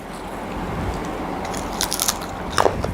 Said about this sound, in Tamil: இதில் இப்போது சிப்ஸ் சாப்பிட்டு பார்க்கலாம்.